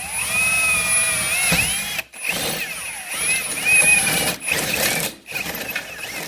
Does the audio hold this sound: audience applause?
no